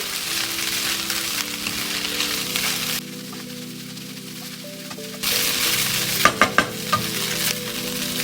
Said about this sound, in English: Still trying to separate those noodles and get them mixed in with some vegetables. And now some tofu.